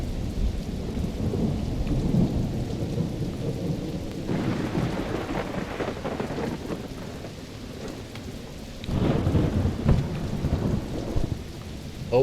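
Steady rain pours in a video game, with rumbling thunder swelling in two loud waves over a continuous wash of falling water; no voices.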